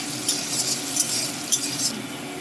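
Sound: turmeric added to hot crackling oil

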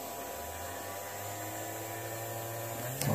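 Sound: brewery control system motor humming

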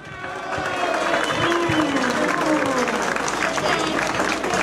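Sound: applause for the speaker

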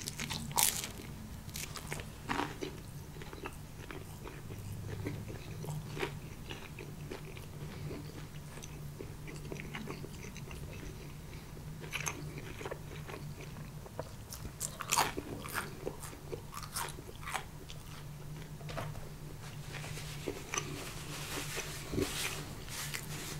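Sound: biting and chewing pizza

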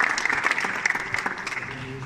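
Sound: audience applause at an award ceremony

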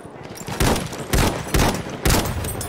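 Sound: rifle gunfire in video game Battlefield 1

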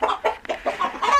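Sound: chicken clucking

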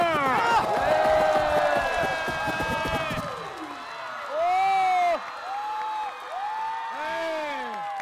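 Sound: audience cheering after a street dance battle

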